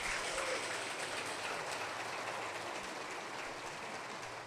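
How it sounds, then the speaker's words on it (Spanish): A large church congregation applauds in a dense, continuous roar of clapping that holds steady and slowly fades slightly. "Y ahora dale el mejor aplauso que tú puedas al Señor."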